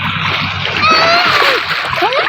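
Children bathe in shallow field water, with loud continuous splashing and sloshing close by and high excited voices calling over it.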